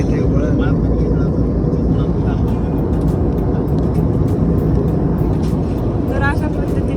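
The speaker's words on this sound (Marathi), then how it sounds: "अरे प्लेन खाली जात आहे इकडच्या साईडने" A descending airplane heard from inside the aircraft, a loud continuous low roar dominating the whole clip, with some faint voices over it.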